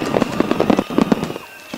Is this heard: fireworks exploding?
yes